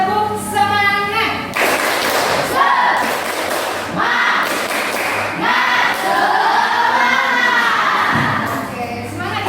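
A classroom of students performs a rhythmic clapping ice-breaker chant, bursts of sharp claps alternating with loud group voices calling out in unison. It is close, energetic and patterned, with shouting children between clap sequences.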